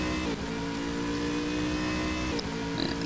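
GT3 race cars battle at the Red Bull Ring in the Stock Car Extreme racing game, a steady blend of engine drone and whine with faint shifts in pitch, continuous and even in loudness.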